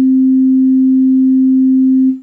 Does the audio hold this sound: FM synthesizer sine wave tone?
yes